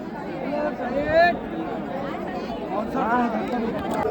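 Thick hubbub from a massive pilgrim crowd at Haridwar, overlapping voices chattering nearby with a few louder calls rising out of the steady babble.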